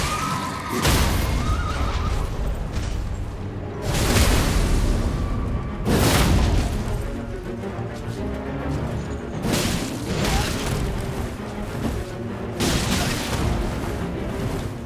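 A horse whinnies amid repeated heavy booms and crashes in the video game Elden Ring, Consecrated Snowfield, loud bursts recurring every couple of seconds over a constant rumbling background.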